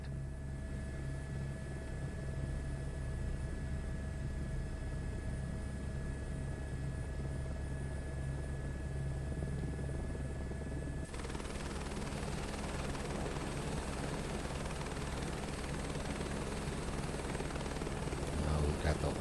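A helicopter hovers in Microsoft Flight Simulator 2024 during a search-and-rescue hoist operation, its steady rotor drone and turbine whine loud and continuous, thickening into a rougher, noisier wash for the second half.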